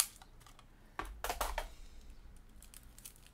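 A quick ripping burst of adhesive tape being pulled off a roll, with faint clicks and rustles before and after in a quiet room.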